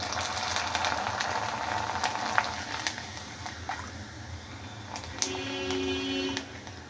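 Corn chips fry in oil that sizzles and crackles steadily in a pan, with scattered pops and a brief metallic scrape partway through.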